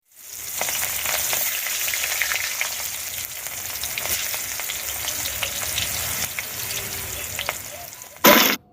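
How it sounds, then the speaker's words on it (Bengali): Chopped onions frying in hot oil after fish was fried in the same pan, giving a steady, close sizzle that runs for most of the clip before a brief louder burst near the end. "তো প্রথমে আমি কিছু পেঁয়াজ কুচি তেলের উপরে দিয়ে দিলাম"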